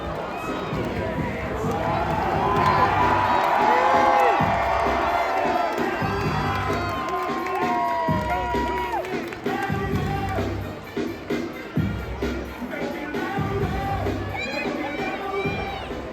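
A large crowd at San Francisco Giants FanFest in San Ramon, California cheers and whoops steadily, with children shouting amid the continuous roar.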